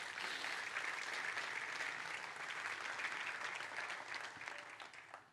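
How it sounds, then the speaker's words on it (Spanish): A church congregation applauds during a sermon, a sustained, even wash of many hands clapping, somewhat distant and fading slightly near the end. "Dele un fuerte aplauso a Dios."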